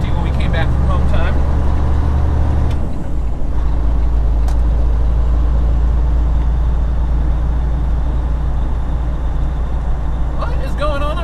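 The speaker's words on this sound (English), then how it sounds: "Oh, snowplow salting the road." A snowplow salting a winter road passes as a heavy truck engine drones steadily up close, with a low rumble and brief clanks and air hiss near the start and end.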